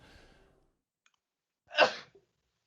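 A single sharp sneeze bursts out after a moment of near silence, preceded by a faint trailing voice.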